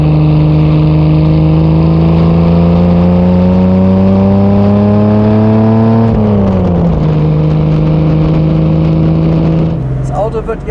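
A 1956 Mercedes 300 SL Gullwing with a fuel-injected racing engine and sidepipes revs loud and close, its pitch climbing steadily for several seconds, dropping sharply, then holding a steady high idle before settling lower.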